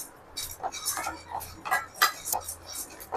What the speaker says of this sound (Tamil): வெந்தயமும் எள்ளு தான் கொஞ்சம் நல்லா படப்படன்னு பொரியணும்